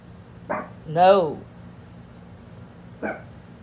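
A few short dog barks or yelps, one longer and whining, spaced apart against a quiet background hum.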